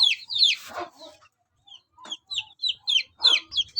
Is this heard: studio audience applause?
no